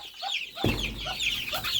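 Young chickens clucking in a farmyard, a run of soft, close clucks and peeps that turn steadily fuller after a low thump partway through, with no voices.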